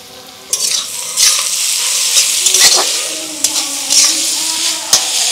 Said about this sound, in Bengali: নাড়াচাড়া করে সবজিগুলো একটু ভেজে নিয়ে দিয়ে দিচ্ছি বাঁধাকপি কুচি